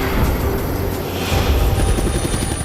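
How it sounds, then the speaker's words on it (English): Dense, steady roar of a medical transport helicopter sent by Children's Mercy, loud and continuous with a rhythmic low throb from the rotor and no talking. "Children's Mercy sent a helicopter to get Bree."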